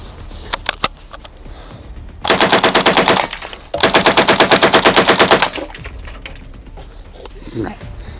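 MP40 submachine gun firing two sustained bursts of rapid, evenly spaced shots, loud and close, preceded by a few single clicks and handling noises.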